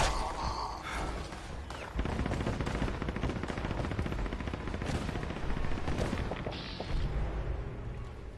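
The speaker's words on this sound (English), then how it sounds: "Gauss minigun." A Gauss minigun in the video game Fallout 76 fires a dense, continuous stream of rapid shots that stays loud and steady the whole way through.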